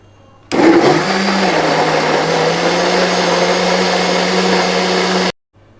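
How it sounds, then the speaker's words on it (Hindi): An electric blender purees mango with condensed milk into a paste: a loud, steady motor whir kicks in abruptly, holds for about five seconds, then cuts off sharply. "अब मैं इसको ब्लेंड करके इसका पेस्ट बना लूँगी"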